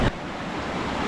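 Cold snowmelt river in Switzerland rushing steadily, a broad close wash of flowing water with no voices, beginning with a brief louder burst before settling into an even roar.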